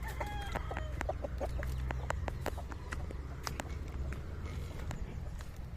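A hen clucks and newly hatched chicks peep close by, with sharp repeated chirps over a low background rumble.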